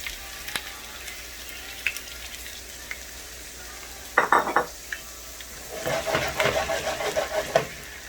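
Potatoes drop into a hot pot and sizzle, with metallic scrapes and clinks of a utensil stirring over a steady frying hiss.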